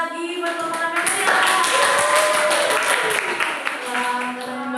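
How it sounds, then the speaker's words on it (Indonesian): A group claps for presenting group 6 during an online civics class session, a steady burst of clapping mixed with overlapping voices and tonal background sounds over several seconds. "Tepuk tangan sekali lagi buat kelompok 6 ya"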